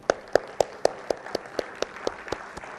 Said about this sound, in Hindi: इन सब के लिए जोरदार तालियां